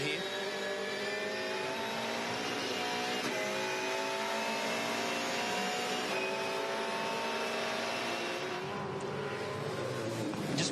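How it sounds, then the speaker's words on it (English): Volvo V8 Supercar engine heard from inside the cockpit while racing at Albert Park in 2014, a loud, continuous high-pitched drone with shifting harmonic whine throughout. "In car now with Scott McLaughlin in the Volvo."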